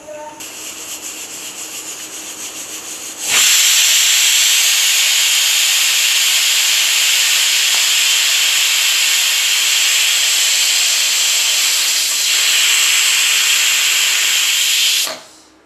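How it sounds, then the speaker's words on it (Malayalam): A pressure cooker holding a Kerala-style curry suddenly vents steam in a loud, sustained hiss that runs for about twelve seconds before cutting off abruptly, after a quieter stretch of background noise. "ഇത് 1 വിസിൽ വരുന്നിടം വരെ വെയിറ്റ് ചെയ്യുക."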